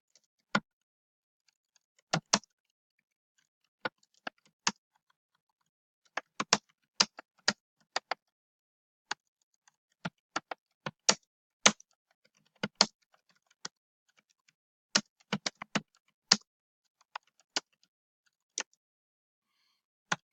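Typing on a computer keyboard, with sparse, irregular bursts of crisp key clicks that come in short clusters and pauses, close and fairly quiet, with no talking.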